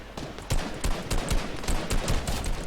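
Rapid gunfire in Fortnite, a dense run of sharp repeated shots in quick bursts, loud and close, with faint voices underneath.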